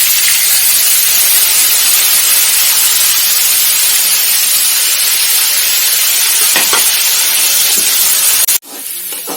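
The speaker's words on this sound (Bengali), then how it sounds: "এবার পেঁয়াজগুলো ছেড়ে দেবো" Onions frying in oil give off a constant loud sizzle, close and unbroken, with a few faint clinks before it drops away at the end.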